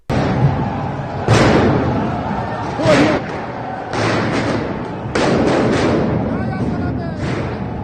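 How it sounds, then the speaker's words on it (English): Rubber bullets and sound grenades fired by troops during a raid on the al-Aqsa mosque, heavy thuds and bangs recurring amid a loud, continuous crowd din and shouting voices. "firing rubber bullets, sound grenades and tear gas at Palestinian worshippers"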